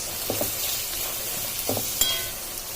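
Cabbage stir-fries for restaurant-style egg fried rice with a steady close sizzle, and the spatula scrapes the pan a few times in soft, scattered strokes.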